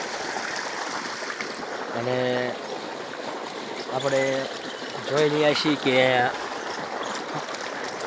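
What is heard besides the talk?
irrigation water flowing in black sesame field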